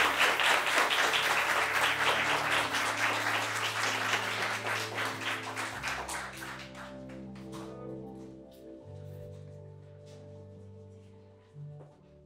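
Applause for graduating music students fills a ceremony hall, loud and dense at first, then thinning to scattered claps as background music notes sustain.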